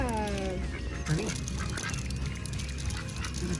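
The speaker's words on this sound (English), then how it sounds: "see the ducks." Ducks on a family farm give a quick run of nasal quacks and honks at the start, close by, then fade under general outdoor farm noise.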